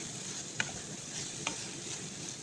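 Eggs stirred in a frying pan with bitter gourd, a quiet continuous sizzle with two light utensil taps, close and low in level, no voices.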